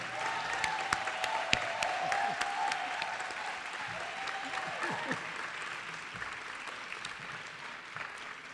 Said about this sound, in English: let's give them the applause they deserve.